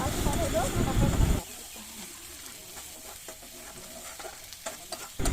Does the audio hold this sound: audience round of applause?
no